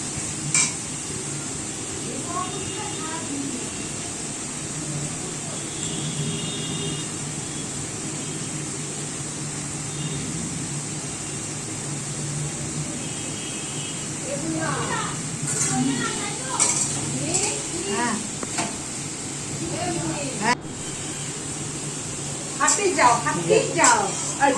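A spoon stirs and fries spice paste in a metal pot, with steady sizzling, scraping and clinking of utensils, growing busier toward the end while people talk nearby.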